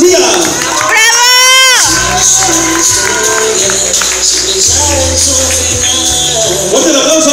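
A crowd cheers and whoops at a primary school graduation ceremony, with loud shouting voices and a rising whistle-like call at the start, continuing as a dense, noisy roar with some talking mixed in.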